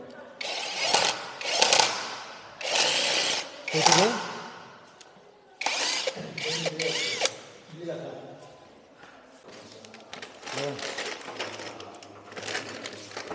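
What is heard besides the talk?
power drill drilling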